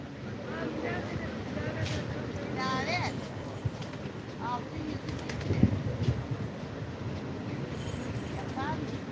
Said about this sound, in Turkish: Burada kargalar rahat bırakmıyor beni. Ee, kuşlar.